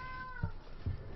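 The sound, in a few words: cat meowing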